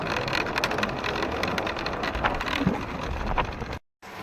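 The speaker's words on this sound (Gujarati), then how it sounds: "વરસાદ ચાલુ થયો ઝીણો ઝીણો ઝીણો" Light rain falls over village fields as a soft, even hiss with faint scattered patters, steady and close, cutting out briefly near the end.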